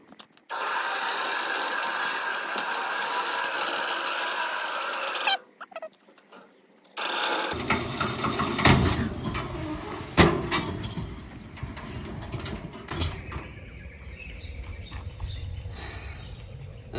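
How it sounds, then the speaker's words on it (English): Ratchet strap being cranked to pull a double line of cable while working on an AP6 Valiant Mopar one-tonne ute, a steady mechanical clicking and rasping that stops briefly and resumes with irregular clanks, nearby and fairly loud. "Didn't have a pulley, so we're using a ratchet strap."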